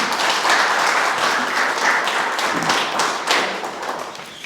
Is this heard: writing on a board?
no